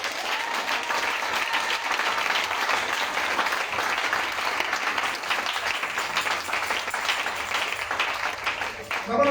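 A church congregation at an evangelistic campaign applauds Jesus with sustained, dense clapping that fills the room for several seconds, loud and steady, with voices mixed in beneath.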